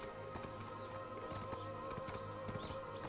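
A horse gallops in Black Desert Online, its hooves clip-clopping in a steady, fairly close rhythm over a constant layer of game ambience and music, with no talk.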